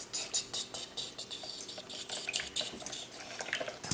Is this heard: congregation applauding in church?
no